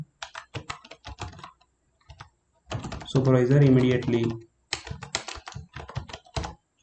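Rapid typing on a computer keyboard in a word processor, close and crisp bursts of keystrokes before and after a short stretch of someone speaking.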